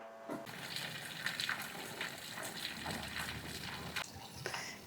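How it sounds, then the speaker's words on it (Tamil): Water gushes steadily from a solar-powered borewell pump on a farm, a broad continuous splashing rush with occasional louder surges, heard close and alone. "35ல் இருக்கும்போதே பாருங்கள் தண்ணி எவ்வளோ ஃப்ளோ நிறைய இருக்குன்னு பாருங்கள்"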